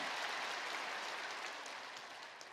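Church congregation applauding the choir at a Sunday service, a dense, even roar of many hands clapping together, sustained throughout and slowly fading, heard from a distance at low volume.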